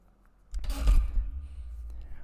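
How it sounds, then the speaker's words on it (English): A person gives one sharp, close sniff lasting about half a second, then a softer breathy tail, during a home programming session. "I should stop sniffing"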